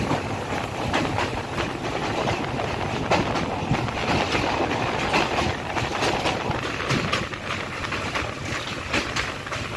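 The 15813 Dekargaon–Murkongselek Express runs steadily between North Lakhimpur and Murkongselek, with a loud continuous rumble and rhythmic clickety-clack of wheels over rail joints heard from inside the train.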